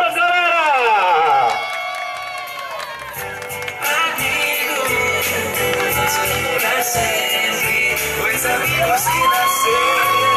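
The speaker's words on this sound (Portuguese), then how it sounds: "Uma salva de palmas, galera!" A crowd at a surprise birthday celebration for a girlfriend in São Paulo's north zone cheers, whoops and shouts with some clapping, lively and loud for about ten seconds after a voice fades.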